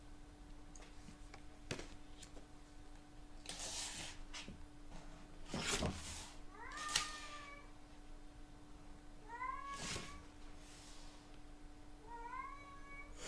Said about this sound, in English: My cat calling.